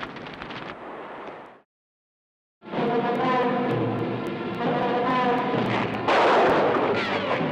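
Gunfire from the 1973 film Beyond Atlantis comes in a rapid crackling burst, then a gap of silence, then sustained loud volleys blended with a score.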